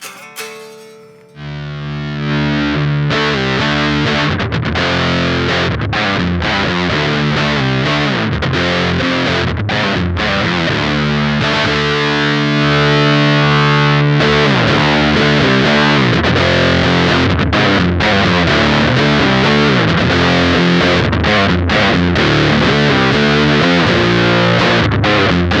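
Heavy Big Muff-style fuzz from an O.C.E. The Hammer pedal on electric guitar, thick sustained distorted chords and riffs getting louder, playing continuously and alone without speech.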